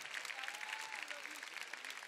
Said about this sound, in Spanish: Para ellos, un fuertísimo aplauso.